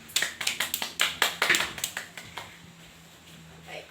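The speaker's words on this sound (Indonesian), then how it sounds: "Mari kita beri tepuk tangan untuk Monik." A classroom gives a student a short round of applause: about a dozen quick, sharp claps over two seconds, then the room settles into quiet murmur.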